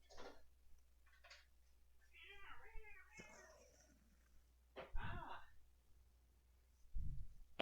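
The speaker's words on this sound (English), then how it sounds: "Our cat is quite incessant." A domestic cat meows insistently, several distinct rising and falling cries spread out in a quiet room, with a voice speaking faintly between them.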